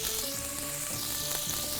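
Loud, continuous sizzling of Greek meatballs frying in a hot pan, close up, with a steady hissing crackle and no talking.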